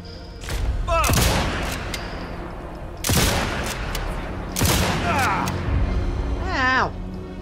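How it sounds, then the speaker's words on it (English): Gunfire in Sniper Elite 5 comes in three loud bursts, each a sharp crack trailing into a rumbling echo, with a voice speaking between and over the shots. "Stop shooting me."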